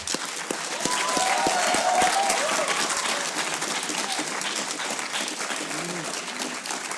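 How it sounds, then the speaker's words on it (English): A crowd at a hackathon closing ceremony bursts into a sustained round of applause, dense clapping that stays loud and slowly tapers, with a voice briefly heard over it. "can we just get a round of applause for everyone wearing a pink shirt real quick?"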